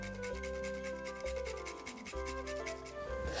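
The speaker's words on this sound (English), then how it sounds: "we're just going to grate some fresh nutmeg on top." Fresh nutmeg is grated over a hot buttered rum cocktail, giving a quiet series of quick, rhythmic rasping strokes close by, with no talking.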